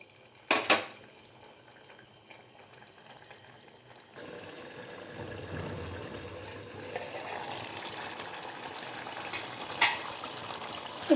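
Dried fish and vegetable curry is stirred in a pan: a couple of utensil knocks, then a low bubbling simmer that grows steadier, with another clink of the spoon near the end.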